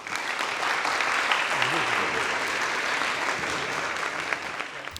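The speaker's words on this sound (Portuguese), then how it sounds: "Uma salva de palmas para esta equipa." An audience applauds a debate team at a university law faculty rhetoric competition, a dense sustained burst of many hands clapping, loud and continuous, with a faint voice briefly audible underneath.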